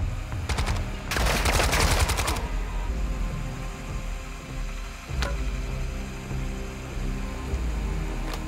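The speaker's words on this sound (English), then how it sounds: "Taking fire!" Automatic gunfire in a video game: a sharp opening shot, then a loud sustained burst of rapid fire, followed by a single later shot amid mechanical clatter and ambient noise.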